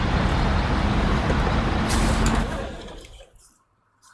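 A loud hiss of air releasing as a heavy truck's handbrake engages in the SnowRunner video game, a sustained rushing blast for about two and a half seconds that fades out quickly into near silence.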